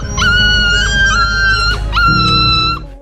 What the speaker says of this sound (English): In the streets of India, a mother dog is captioned wailing for her puppy.